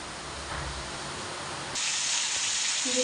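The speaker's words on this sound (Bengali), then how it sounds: "তেল বসিয়ে দিয়েছি, এবার কালো জিরে ফোড়ন দিয়ে পটলটা ভেজে নেবো একটা করে" Pointed gourd (potol) fries in oil with black cumin, a steady bright sizzling hiss that jumps louder partway through and then holds constant.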